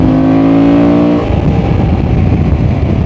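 Honda Transalp motorcycle engine revved up to a rising whine for about a second, then dropping back to a rough, rumbling idle, loud and close with no talking.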